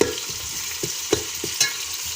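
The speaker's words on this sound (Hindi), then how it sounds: "बस हमारी प्याज ब्राउन होने वाली है। हमें लाइट ब्राउन चाहिए" Onions fry in a pot to a light brown for an aloo gosht dish, a steady sizzle broken by several scraping stirs of a spoon, close and alone.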